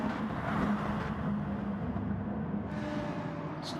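BMW racing cars running side by side on a race track, a steady loud engine drone that holds throughout without clear passes, no voices.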